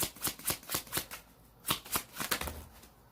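Tarot cards being shuffled in quick riffling bursts, about a dozen crisp rhythmic flutters close by with no talking.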